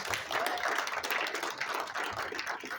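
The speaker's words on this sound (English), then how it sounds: "Everyone give her a round of applause." A crowd claps steadily, a dense wash of many hands applauding at moderate volume without letup.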